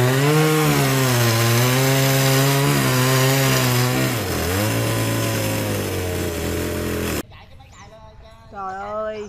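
A chainsaw cuts into a large tree trunk brought down by a night storm in the Vietnamese countryside, its engine loud and close, pitch sagging under load. Near the end the roar cuts out abruptly, leaving quieter, weaker engine sound.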